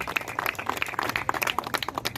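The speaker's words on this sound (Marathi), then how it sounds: "खरोखरच दादांसाठी टाळ्या वाजवा" Audience applause for a speaker at a local 40-plus cricket tournament event, a dense patter of many hands clapping close and steady for a couple of seconds.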